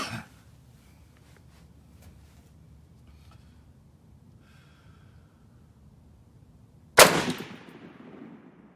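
A Rock River tactical sniper rifle firing, worked like a bolt-action: one loud, sharp shot near the end rings out with an echoing decay, after a mostly quiet stretch that opens with a brief earlier report.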